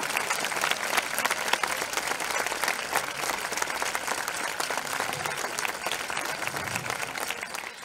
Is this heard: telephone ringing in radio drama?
no